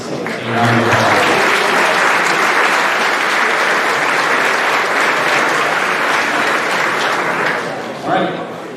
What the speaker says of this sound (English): Our 4-year boys participants a round of applause.